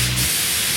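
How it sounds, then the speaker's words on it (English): A spray gun sprays clear coat onto a patched car body panel, giving a loud, steady, continuous hiss with a brief low hum at the start. "Spray at least 2 coats of clear if using a spray gun."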